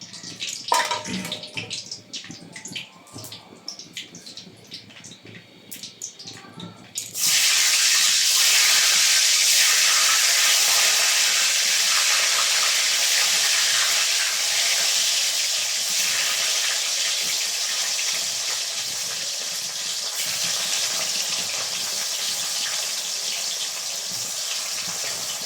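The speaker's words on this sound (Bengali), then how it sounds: "এখন আমি বাকি আলুগুলো ভেজে নেব" Potatoes drop into hot oil after some light clattering, setting off a loud, sudden, sustained frying hiss that stays strong and steady to the end.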